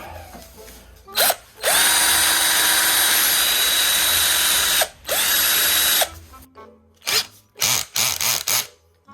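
Cordless power drill running at full speed in long steady whining bursts, stopping and restarting, followed by several short quick pulls of the trigger near the end.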